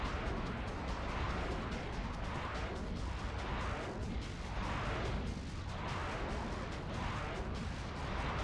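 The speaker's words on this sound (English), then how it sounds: "there's another guy shooting at me" Enemy gunfire in the video game Metal Arms, a continuous dense barrage of rumbling, booming shots that pulse in waves, loud and unbroken throughout.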